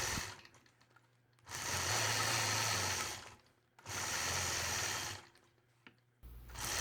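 A sewing machine quilts angular lines through a star block, running in two sustained bursts of steady, rapid stitching about two seconds each, separated by quiet pauses, with a third burst starting at the end.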